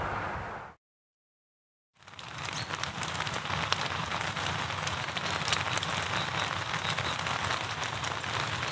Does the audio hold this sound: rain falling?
yes